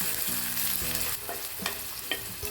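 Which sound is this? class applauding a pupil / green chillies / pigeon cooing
green chillies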